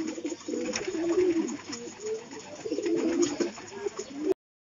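Pigeons coo in soft, low, repeated throaty calls close by outdoors, continuing steadily with faint background noise and no voices over the cooing.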